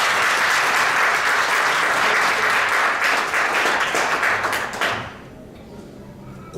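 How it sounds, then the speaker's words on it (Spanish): A church congregation gives loud, sustained applause that fades out near the end and leaves a quiet room. "Denle un aplauso bien fuerte al Señor."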